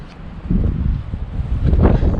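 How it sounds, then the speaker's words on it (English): Strong wind buffeting the microphone in low, roaring gusts that swell and ease over a couple of seconds. "It is windy."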